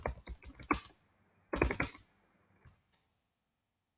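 Quick bursts of typing on a computer keyboard while writing HTML code for a booking confirmation email: a rapid cluster of close clicks, a pause, a second dense burst, then a few isolated taps with silence between.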